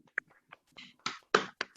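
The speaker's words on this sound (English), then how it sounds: "I want to try to unmute all of us so that we can clap hands" A few scattered hand claps from people on a video call, uneven and sparse, coming in short separate bursts rather than steady applause.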